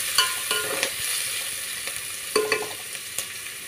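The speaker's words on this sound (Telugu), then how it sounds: "ఉల్లిగడ్డలు, క్యారెట్లు కూడా కట్ చేసి పెట్టుకున్నాను. ఇవి కూడా వేసి ఇవన్నీ బాగా కలుపుకున్నాం." Chopped onions and carrots sizzle steadily in a hot pan while a spoon stirs them, adding soft scraping clicks and a few sharper knocks against the pan.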